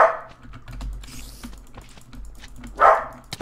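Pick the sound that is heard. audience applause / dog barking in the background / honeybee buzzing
dog barking in the background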